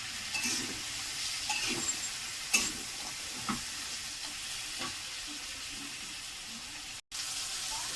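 Spiced water hisses and sizzles as it is poured onto a rohu fish head frying in a pan, a steady crackle with a few stirring scrapes and knocks, close and fairly quiet, no talking.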